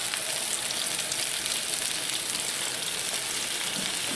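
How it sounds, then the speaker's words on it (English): Aromatics sauté in a hot pan with a dense, even sizzle that holds steady and close throughout, no voices. "I just want to get this lightly sauteed up"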